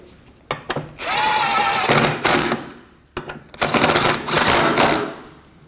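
Power tool snugging AC condenser mounting bolts on a 2015-2024 Ford Edge 2.0L, two close, loud whirring bursts of about two seconds each with short clicks and pauses between.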